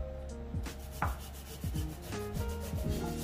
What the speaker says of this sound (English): For the ginger, we have to grate it.